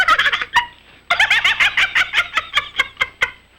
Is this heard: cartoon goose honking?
yes